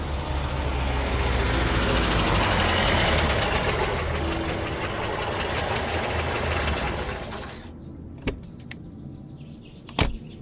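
An Ambassador car engine idles under a portico, a steady mechanical hum and knock that cuts off abruptly near the end, followed by a few sharp clicks or door sounds.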